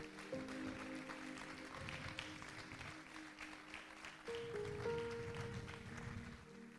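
A church congregation claps in praise to God, a steady broadband wash of many hands with sustained keyboard tones running underneath, swelling again partway through.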